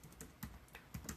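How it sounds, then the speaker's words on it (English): Soft, quick keystrokes on a computer keyboard tap in an uneven run of clicks, faint and close. "I can't type and talk."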